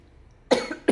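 A single person coughs indoors, a short sharp burst followed by a second quick cough, close and clear against a quiet room.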